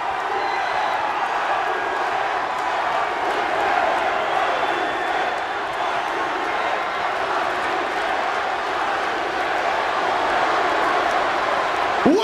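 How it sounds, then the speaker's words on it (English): Loud, enthusiastic arena crowd at a night of professional wrestling in Cincinnati, a dense steady roar of cheering and shouting that holds for the whole stretch with no letup. "A very loud, a very enthusiastic crowd here tonight in the Queen City of Cincinnati"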